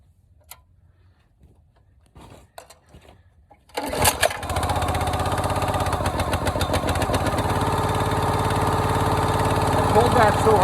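A gas-powered Oregon log splitter engine is pull-started after some faint handling noises, catches with a bang and settles into a loud, steady, close idle chugging for several seconds.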